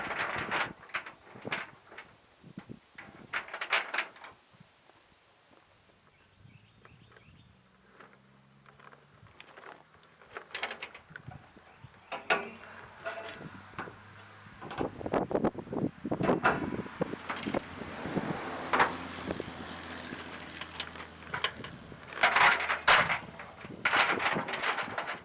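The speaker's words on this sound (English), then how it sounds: "I take my springs and hook them into the end of the snow chains, and then into the holes in the bed of the truck" Metal springs being hooked into the ends of snow chains and into the holes of a truck bed give off close, irregular clinks, rattles and scrapes, quieter in the middle and busier toward the end.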